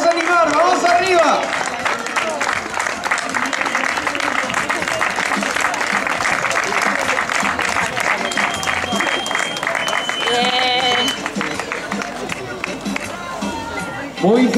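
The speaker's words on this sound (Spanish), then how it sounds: "Vamos a aplaudir, Yesley, ese fortísimo aplauso" Crowd clapping and cheering at the finish line of a popular running race in Carballedo, continuous and fairly close, mixed with chatter and an announcer's voice over a public address.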